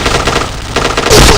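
Rapid automatic gunfire in a Counter-Strike style shooter game, loud and close, a dense burst of shots running nonstop for a moment.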